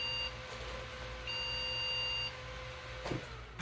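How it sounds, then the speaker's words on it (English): A salvaged Gateway desktop computer emits its RAM error beep code at power-on: two long steady electronic tones separated by a gap, over a constant fan hum, with a faint clunk near the end. "That sounds like a RAM beep."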